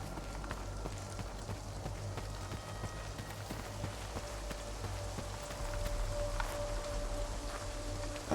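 Rain patters steadily over a low rumbling ambience in S.T.A.L.K.E.R. 2: Heart of Chornobyl, with faint scattered drips and a soft tone drifting underneath, no voices.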